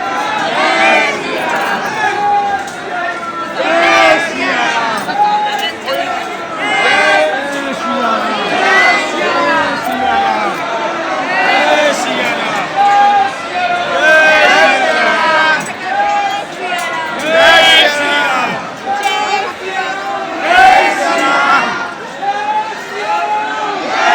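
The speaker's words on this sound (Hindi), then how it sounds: "ये थी श्री हनुमानगढ़ी की भीड़, और ये 4-5 किलोमीटर से इतनी ही भीड़ थी" A dense crowd packs the narrow approach to Shri Hanumangarhi temple in Ayodhya, a constant loud babble of many voices with chanting and occasional shouts rising from the throng.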